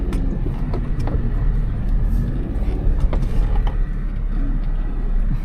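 Suzuki Jimny JB23W idling on an overgrown trail, a steady low engine rumble with irregular mechanical clunks and knocks, close and continuous with no talk.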